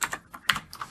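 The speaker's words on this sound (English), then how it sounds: "So now I'm going to hit enter on my keyboard twice" Keys pressed on a computer keyboard, including the enter key, several quick plastic clicks close by in an irregular burst, with no talking.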